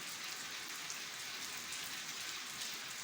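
Heavy rain pours steadily on a courtyard during a storm, a dense, continuous hiss of drops close by with no breaks and no voices.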